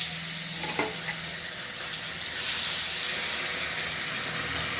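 Fish frying in hot oil with cumin paste and chili powder, a steady bright sizzle and hiss that holds evenly throughout with no talk.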